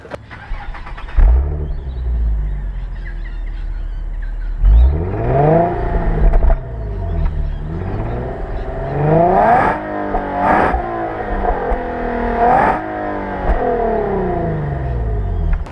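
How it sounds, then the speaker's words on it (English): A Nissan Skyline 370GT (Infiniti G37) fires up from a push-button start, with a starter whirr and sudden catch, then settles into a low idle broken by several sharp, close revs rising and falling. "Push button start, so foot on the brake, push the button."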